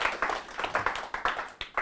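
A handful of people clap for Taz at a talk, sparse and uneven, with individual claps plainly separate and fairly quiet from start to finish.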